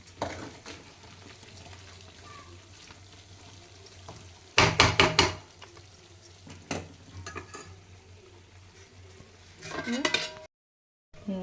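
Chicken pickle being stirred in a pan, with a spoon scraping and clinking against the metal in bursts, then a lid set down near the end before a brief silence.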